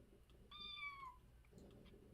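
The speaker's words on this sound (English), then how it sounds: "So there's the cat." A cat gives a single clear, drawn-out meow lasting about half a second, faint against a low background hum, with no talking.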